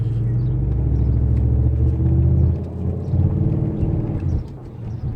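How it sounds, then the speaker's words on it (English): A car cruises on the highway after an upper engine mount was replaced, heard from inside as a steady low engine and road rumble that dips briefly midway and then resumes. "just took the car on the highway"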